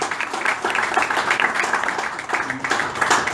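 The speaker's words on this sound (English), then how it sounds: "So a big round of applause for her." Audience at a keynote speech applauding, a dense steady patter of clapping throughout, moderately loud and filling the room.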